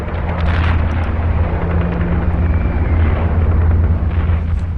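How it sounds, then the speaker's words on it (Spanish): War sound effects of a Spanish Civil War night attack at the Ebro: a dense, loud barrage of rumbling detonations and booms with rattling gunfire blending into a continuous roar throughout. "las primeras detonaciones de disparos y el tableteo de las ametralladoras"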